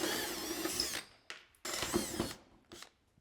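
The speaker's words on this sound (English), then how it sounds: "you can start drilling out the rivets" A power drill whirs in two short bursts, drilling out metal rivets on a Ski-Doo snowmobile tunnel up close, with brief pauses and a small clunk between them.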